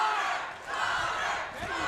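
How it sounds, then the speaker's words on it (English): A large MMA event crowd roars and cheers for fighter Connor Shepard, a dense continuous wall of shouting voices that swells near and loud throughout. "the crowd loving Shepard right now"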